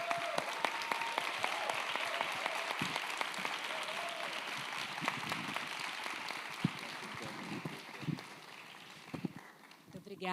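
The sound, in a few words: audience applause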